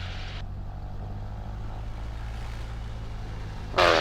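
A Cessna 152 engine hums steadily at low power while taxiing at Bankstown, a constant close drone throughout, with a brief loud burst of noise just before the end.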